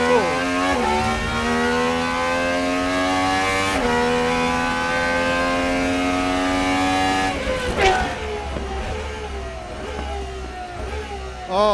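A Gordon Murray GMA T.50s supercar with a V12 engine drives on cold tyres, its high engine note rising in smooth steady sweeps through the gears. The note dips briefly as it shifts, loud and close.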